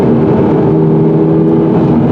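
Toyota GR86, 2022, running in sport mode with the automatic transmission holding the revs high, a loud, steady engine drone heard from inside the car, no talking.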